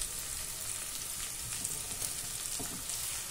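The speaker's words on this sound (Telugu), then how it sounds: "ఉల్లిపాయలు కూడా వేగుతున్నాయి." Onions fry in a pan with a soft, continuous sizzle and faint crackles, fairly quiet and steady, with no talking.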